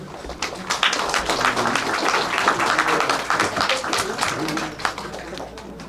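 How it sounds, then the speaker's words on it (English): Audience applause at a Congressional Gold Medal presentation ceremony in Simi Valley, a steady wash of many hands clapping throughout, with scattered voices mixed in. "Let's give another round of applause"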